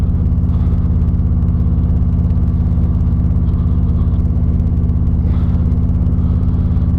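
A Harley-Davidson cruiser motorcycle engine rumbles steadily and deeply while riding, a loud, continuous low throb with faint wind noise above it.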